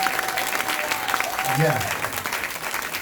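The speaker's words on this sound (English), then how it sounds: "So please give her a round of applause." Audience applause for Evgenia at a film festival premiere Q&A, a steady burst of clapping in a room, with a voice speaking over it briefly.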